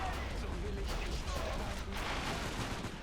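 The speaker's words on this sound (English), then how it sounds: "Troops inside the building firing at the Finnish attackers." Troops inside a building fire at attackers in a Finnish winter town battle video game, a dense, continuous crackle of distant gunfire that holds at an even level throughout, with speech faintly under it.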